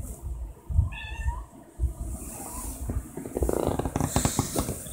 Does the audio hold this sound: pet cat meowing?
yes